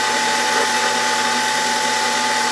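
A drill press spinning at its top speed of about 1,000 RPM, driven by a DC motor, gives a steady, close mechanical whir with a constant tonal hum and faint gear-like rattle throughout.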